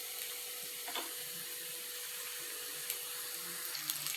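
Fish frying in coconut oil over medium gas, a soft continuous sizzle and crackle with faint scattered pops, steady and close throughout.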